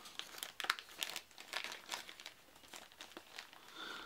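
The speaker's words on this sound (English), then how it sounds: "be careful when taking these out of these plastic bags" Thin plastic bags crinkle as cards from a Star Wars Imperial Assault Return to Hoth expansion are pulled out, with close, soft, irregular rustles and crackles throughout and no talk.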